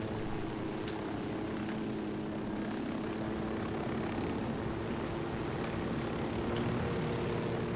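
A steady, droning aircraft engine hum fills the scene as a plane or helicopter lands in Ghost Recon Wildlands, constant and moderately loud with no voices.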